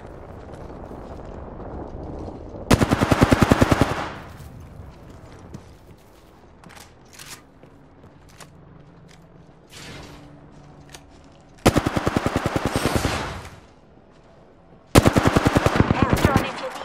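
Automatic gunfire from the video game Apex Legends comes in three loud, rapid bursts, each lasting one to two seconds. Quieter in-game sounds fill the gaps between them.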